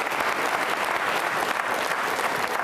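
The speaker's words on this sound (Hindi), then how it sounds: "तालियां उनके सम्मान में भी जोरदार बजाइए आप" An audience gives a guest steady, dense applause at an Independence Day quiz programme with NCC cadets, a loud, even wash of clapping that runs alone without pause.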